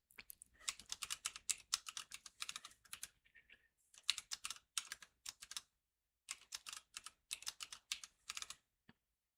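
Someone types equations into the Desmos graphing calculator on a computer keyboard: quick, close clusters of key clicks broken by brief pauses, with no talking.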